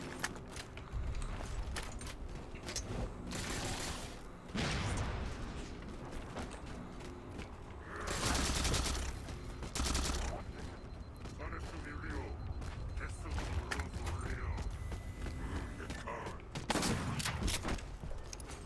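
Gunfire and shotgun blasts in the Halo 4 multiplayer shooter, sharp bursts repeating over a dense, loud battle bed with game music and effects throughout, around 8 seconds a heavier boom.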